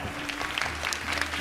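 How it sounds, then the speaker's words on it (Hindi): Studio audience applause during a Ramadan iftar television broadcast, a fairly quiet, dense patter of many hands clapping steadily over a low background hum. "आज तो लोग तैयार हैं तालियां बजाने के लिए"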